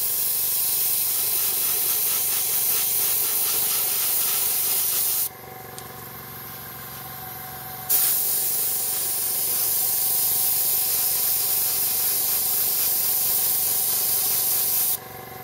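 A continuous close hiss of an airbrush spraying primer on a Gundam model kit, briefly shifting in tone midway, then resuming steadily until a short drop near the end.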